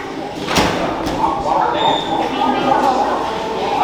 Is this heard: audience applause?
no